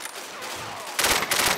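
Rapid automatic gunfire in the zombie shooter Left 4 Dead 2, a loud continuous burst that grows denser in the second half, with no voices.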